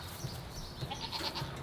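Several goats bleat in short, repeated calls from close by as they run out to feed, with faint farmyard background and no talking.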